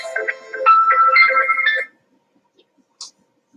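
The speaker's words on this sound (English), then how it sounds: "I thought I had my phone turned off." A mobile phone ringtone plays a bright melodic jingle for about two seconds during a healing session, then cuts off, followed by a brief faint tone.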